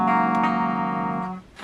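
Guitar tuned down a half step rings out as a single sustained strum of open strings, close and alone, decaying after about a second.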